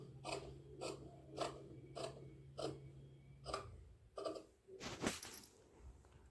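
Scissors cut through blouse fabric in a run of about eight evenly spaced crisp snips and rasps, close and fairly quiet, quickening slightly toward the end, with a faint hum underneath.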